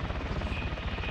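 A helicopter in the military video game Arma 3 makes a steady, close, droning rotor thrum with an even low pulse, and no voices are heard.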